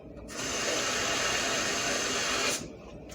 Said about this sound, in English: So you put the water at the bottom.